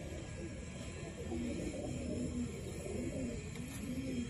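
Pigeons coo softly in a loft housing a golden hen paired with a male, with faint repeated low coos over a steady background hum and no clear talking.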